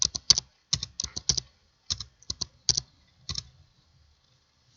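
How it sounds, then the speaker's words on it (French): Numbers typed on a computer keyboard, with sharp, close key clicks in quick clusters followed by a few sparse taps, then silence near the end and no voices. "Voilà les nombres que l'utilisateur a saisis au clavier."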